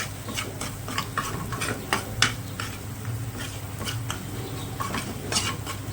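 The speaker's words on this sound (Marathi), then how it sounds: "छान असं परतून घेते मसाले अद्रक लसूण आणि मसाल्याचं लागले पाहिजे" Ginger, garlic and masala sauté in a pan, a steady low sizzle broken by frequent clicking scrapes of a spoon stirring against the metal, close and continuous with no talking.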